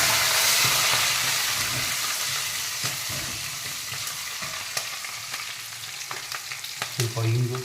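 Green chillies and curry leaves sizzle in hot oil for khara pongal, a steady loud frying hiss that eases slightly, broken by stirring clicks and scrapes near the end.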